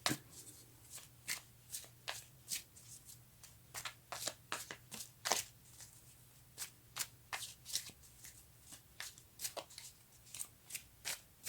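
A deck of tarot or oracle cards is shuffled in a steady run of crisp riffling bursts, close and fairly loud, with no talking over it.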